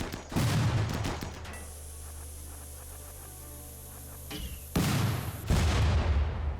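Gunfire in the video game RimWorld: bursts of rapid shots at the start and again near the end, loud and close, with a quieter stretch between them and no talking.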